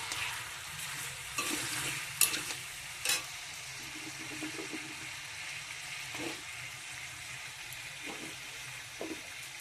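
Papaya and other hard vegetables go into a pot to fry for a chicken stew, giving a steady soft sizzle with a few sharper clatters of stirring.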